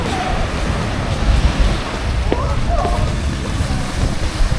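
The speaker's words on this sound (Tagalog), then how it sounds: "Medyo maalon ngayon ah. Ang lakas ng alon." Strong ocean waves wash onto a beach in a continuous roar, mixed with gusty wind buffeting the microphone and a faint voice in the background.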